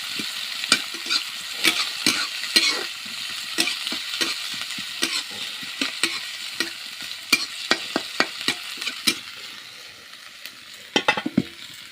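Leafy greens fry in mustard oil with garlic, chili and onion, a bright steady sizzle broken by frequent scraping stirs of a spatula against the pan, close up and with no voices.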